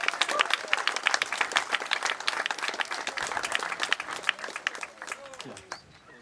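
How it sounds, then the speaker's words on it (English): A crowd at a presidential campaign stop in Andover, Massachusetts applauds in a dense, lively burst of clapping for about five seconds before it thins out and a voice begins to speak. "I'd like to round of applause for those folks."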